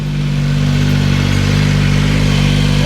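A rental motorcycle with a worn-out clutch runs at a steady idle, its low, even engine drone holding constant and close throughout.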